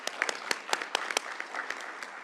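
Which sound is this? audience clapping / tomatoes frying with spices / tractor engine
audience clapping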